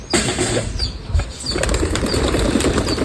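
Pigeons flap their wings in quick, fluttering bursts close by, the whirring beats repeating over a steady background rumble.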